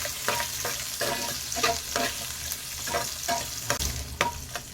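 Onion and coconut sauté in hot oil for a coriander chutney, giving a loud, continuous sizzle broken by rhythmic scraping stirs about every half second, close up with no talk.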